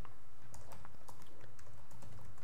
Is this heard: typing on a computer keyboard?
yes